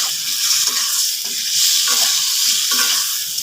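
Meat pieces sizzling and frying in a pan with egg, loud and close, with a steady hiss broken by scraping stirs every half second or so.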